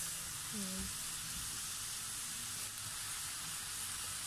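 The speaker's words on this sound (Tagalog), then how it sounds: "And tuloy lang natin ang ating paggisa." Steady broadband sizzle of tomatoes sautéing in a pan for mapo tofu, continuous and fairly close, with a brief tonal clink early on.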